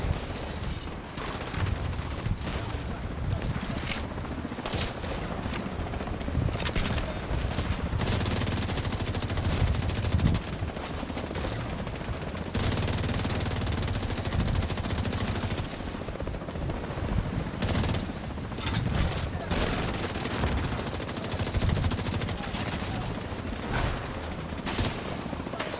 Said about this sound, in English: I swear I'm shooting at people.